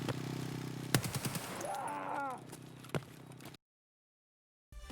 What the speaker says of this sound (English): I decide to just pre-fire him through the fence before peeking it